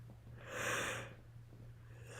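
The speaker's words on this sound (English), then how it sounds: "I got 2 really nice yawns." A single soft, breathy yawn swells up and fades away during a calm breathing exercise, close and quiet, with a faint low hum underneath.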